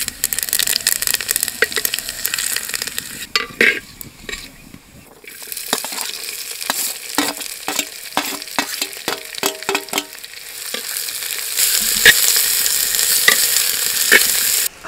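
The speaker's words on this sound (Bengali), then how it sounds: "ফোড়নে দেবো জিরা তেজপাতা" Cumin seeds and bay leaves tempering in hot oil in a clay pot give a steady crackling sizzle with scattered pops and scraping stirs. The sizzle grows brighter and louder toward the end.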